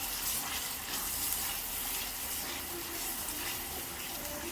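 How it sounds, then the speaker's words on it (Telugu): Spice paste stirred into a frying kaju matar paneer curry gives a steady, even sizzle with soft stirring noise throughout, moderately loud and with no voices. "ఆ పేస్ట్ వేసుకుంటున్నాను అండి. ఇప్పుడు మిక్స్ చేస్తున్నాను."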